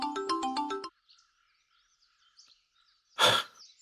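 Phone ringtone playing in a household drama scene, a short bright melodic chime of rapid repeated notes that stops abruptly, followed by near silence and then a loud breathy burst.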